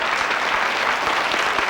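A studio audience of girls and boys applauds on a French television show, a thick, steady burst of clapping filling the whole brief moment with no break.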